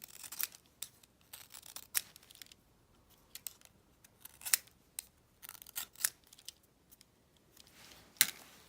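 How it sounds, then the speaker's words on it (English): A knife shaving and cutting the sides of a calligraphy pen nib, giving quiet, close, irregular bursts of dry scraping cuts with pauses between them, no talk. "Cut both of the sides so you make it a nib."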